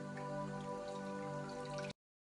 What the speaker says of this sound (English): then you rinse it out with the flannel